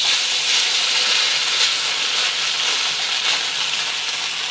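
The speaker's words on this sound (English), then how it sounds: "We're just going to fry up our noodles a little bit." Noodles fry in a pan with a constant loud, bright hiss and sizzle that holds steady throughout and has no talk.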